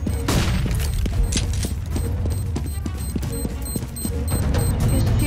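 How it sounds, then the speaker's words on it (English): A flashbang grenade thrown in the video game CS:GO goes off amid dense, close gunfire and sharp repeated bangs of a match, with loud overlapping shots filling the whole stretch. "Deploying flashbang."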